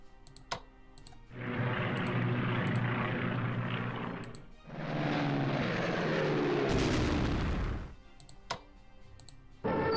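Strategic bombers in a WWII strategy video game, two long droning engine roars, the second one shifting in pitch, with sharp keyboard clicks in between and before.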